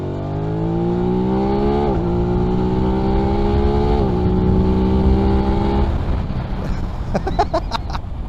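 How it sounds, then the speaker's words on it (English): A 2021 Aprilia RS660 engine revs in second gear at slowed pace, its rising pitch climbing steadily in a few sustained pulls under wind noise, then dropping away as clicks follow near the end. "let's slow down and just give it a few revs, shall we?"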